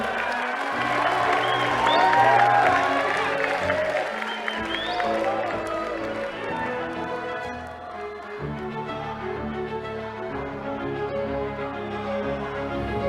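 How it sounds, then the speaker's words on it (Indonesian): Audience applause and crowd cheering at an Indonesian presidential campaign declaration event, heard as a sustained clapping wash under loud music and a voice over the sound system. "Berikan tepuk tangan yang luar biasa."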